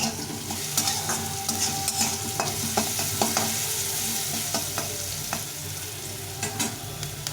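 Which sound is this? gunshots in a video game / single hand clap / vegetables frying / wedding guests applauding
vegetables frying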